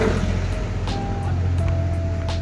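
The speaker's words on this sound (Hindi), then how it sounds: "नीले कलर का ट्रैक्टर, समझ रहे हो? उसमें पीली टंकी। अरे भाई हमारी तरफ आ रहा है।" A blue tractor with a yellow tank approaches, its steady low engine rumble continuous and fairly loud throughout, with faint traffic-like noise around it.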